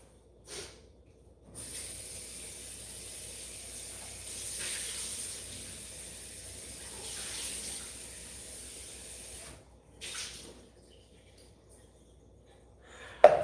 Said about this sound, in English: Let me rinse this cup. I like to rinse my lye cups.